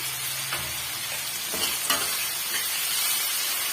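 Coconut pieces and tomato sauté in a pan for a three-leaf chutney, giving a steady close sizzle broken by a few scraping stirs of a spoon, with no talking.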